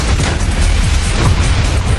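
Explosion on a burning North Sea oil platform: a dense, loud, continuous roaring blast with rumbling low end and crackling bursts throughout, no voices.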